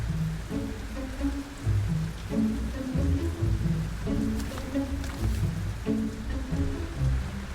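Heavy rain pours steadily over a city development site, a broad hiss of the downpour running underneath a series of rhythmic, pulsing calls that repeat every second or so.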